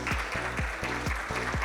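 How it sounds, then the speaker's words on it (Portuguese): Audience applause at a national road conservation conference in Brazil, a steady patter of clapping with a rhythmic low thump repeating underneath throughout, moderately faint and without voices. "Vamos recebê-lo com a salva de palmas."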